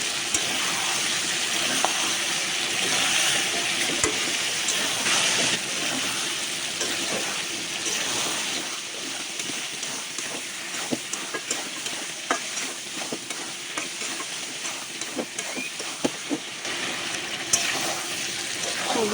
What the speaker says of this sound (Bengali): এদিকে মুরগিটাও কষাইতেছে ভালো করে